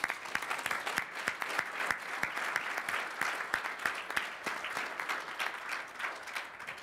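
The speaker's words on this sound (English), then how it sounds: "please join me in a round of applause for our excellent panel." A panel-discussion audience on the euro area applauds steadily in a hall, a dense wash of many hands clapping close and continuous for several seconds with no voices over it.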